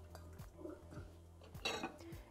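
Sliced potatoes are stirred in a pot of water, giving a few soft clinks and scrapes of a utensil against the pot at close range, with no talking.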